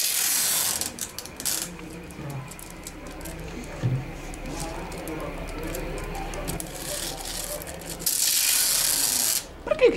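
Adhesive tape is pulled off the roll and wrapped around a fabric flag as a reinforcing band, giving bursts of ripping and crackling with softer handling noises and occasional speech between them.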